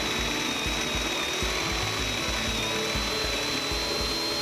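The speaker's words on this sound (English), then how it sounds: "introduce the cutter into the pipe by continuing to turn the cylinder clockwise." Feed tap drilling machine's cutter boring into a pipe, a steady high whine with a rhythmic low thumping pulse repeating about twice per second, continuous and moderately loud with no talk.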